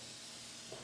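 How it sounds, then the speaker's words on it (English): Canola oil cooking spray hisses steadily from the can onto a baking dish, a quiet continuous spray with no talking. "Geffen canola oil cooking spray"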